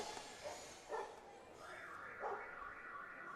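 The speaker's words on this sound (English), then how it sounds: "And you can hear the dogs certainly barking" Dogs bark several times at an American Association baseball game between the Chicago Dogs and Kansas City Monarchs, a few short yelps spaced through a faint crowd murmur.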